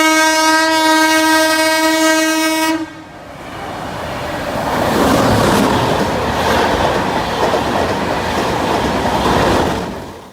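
A railway train sounds a loud sustained horn for nearly three seconds, then cuts off as the clattering roar of the passing train's wheels and wagons swells close by and carries on.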